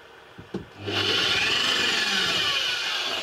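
A drill bores a pilot hole into wood while building a camper van, with a couple of short taps and then a steady close whirring, grinding bite into the timber for about two seconds.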